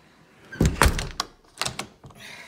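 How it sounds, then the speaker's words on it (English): A solid front door fitted with a digital lock swings shut at close range, giving two heavy thunks and a latch click, followed by a further rattle of the mechanism. "Nice solid door. It's got a digital lock."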